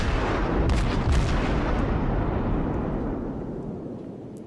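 Naval guns of a Tier 7 Japanese heavy cruiser firing in World of Warships, a loud, continuous booming barrage with rolling rumble that slowly fades toward the end.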